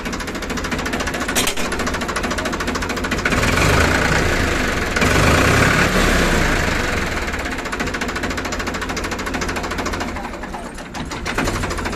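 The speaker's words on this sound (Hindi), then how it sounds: "इंजन इसकी बहुत जोर की आवाज़ निकाल रहा है, कड़क आवाज़ है बेहतरीन वाली" A Farmtrac 45 tractor engine runs loudly and steadily at close range, with a harsh, knocking diesel rumble that rises slightly in the middle and has no talk over it.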